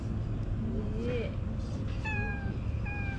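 A lazy cat, lying down and eating alongside other cats, gives a few short meows, a rising call followed by two clearer ones, faint against a steady background hum with a person talking nearby.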